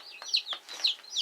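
New chicks peep in a home brooder lined with pine shavings, rapid high chirps repeating several times in quick succession, close and clear.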